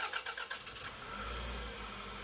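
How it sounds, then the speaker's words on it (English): A 2002 Toyota RAV4 engine cranks with a brief rapid starter whir, then catches and settles into a steady idle, heard close in a quiet garage after a serpentine belt replacement. "start the engine"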